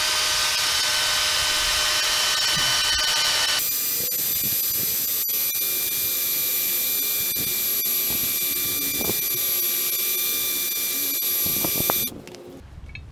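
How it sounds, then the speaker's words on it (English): A small high-pitched Dremel rotary tool with an 80-grit sanding wheel whines steadily as it grinds against powder-coated metal, a continuous loud buzz that shifts pitch once and then cuts off. "I've got a little piece that came from a Dremel, little sanding wheel, 80 grit."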